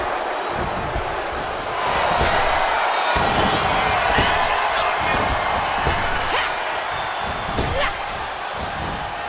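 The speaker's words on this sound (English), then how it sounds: "The crowd is fully behind IYO," An arena crowd roars steadily at a WWE Raw 2024 Queen of the Ring tournament women's wrestling match. Occasional ring slams thud through the noise while a commentator talks over it throughout.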